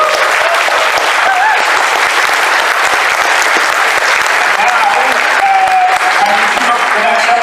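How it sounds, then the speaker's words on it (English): Loud, sustained applause fills the whole stretch as a fan-event audience cheers after a Transformers episode screening, with some crowd voices mixed into the steady clapping. "Round of applause for that episode."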